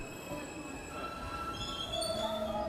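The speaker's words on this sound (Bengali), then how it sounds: "ট্রেন জানিওয়ালা স্টেশনে দাঁড়ালো কিছুক্ষণের জন্য" A train pulls into a station, wheels squealing in long high whines over a steady, close rumble of rail cars that swells slightly toward the end.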